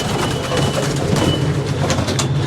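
Pigeons coo steadily at close range, low soft murmuring calls overlapping one another against a constant background hum.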